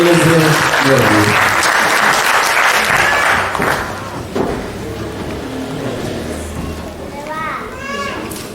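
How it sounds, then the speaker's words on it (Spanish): An audience claps at a talk presenting an environmental monitoring project, a loud, lively burst of applause with children's chatter and voices mixed in, easing slightly as people keep talking. "un aplauso para ellas para que se van animando y no les den nervios"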